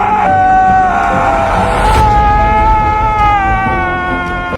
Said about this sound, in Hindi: इसके बाद वो बहुत जोर से चिल्लाता है।